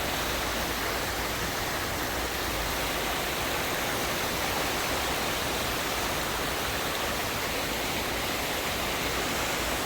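A stream flowing near the Ganga at Rishikesh in the rainy season, a steady broadband rush of water, even and unbroken, moderately loud.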